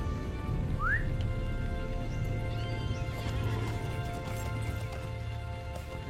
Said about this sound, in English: Maybe I should get on my horse.